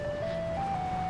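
Ice cream truck in the video game PUBG, its steady electronic jingle tone playing loudly over a low engine rumble.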